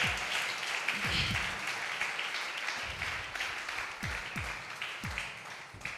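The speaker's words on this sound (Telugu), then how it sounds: "బిగ్గరగా చప్పట్లు కొడుతూ దేవనామాన్ని మహింపరుద్దాం" A church congregation at a fasting prayer gathering claps loudly as a dense, continuous wash of applause, with low thumps scattered through it.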